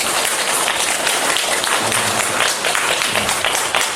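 A church congregation at a Sunday service claps in dense, sustained applause, loud and even from start to finish.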